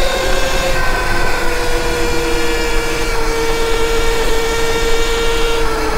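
A 12,000 watt Sur Ron electric dirt bike on a ride gives a steady high motor whine that holds a few rising tones, over constant wind and road rush, close and loud throughout.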